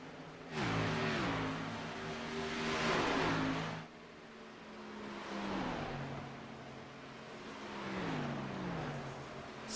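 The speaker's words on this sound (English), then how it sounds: "Still a 3-car battle right here, right in front of Jason Ayerson" Race cars from an Xfinity Series racing video game roar by in a three-car battle, their engines rising and falling through repeated gear shifts in several loud, sustained revving passes.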